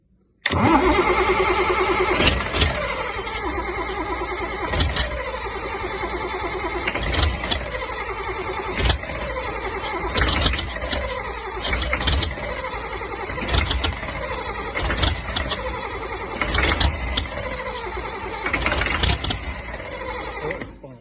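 A Land Rover diesel engine cranks and catches repeatedly, each start a rough mechanical chug, settling into uneven running between attempts over about twenty seconds, fairly close.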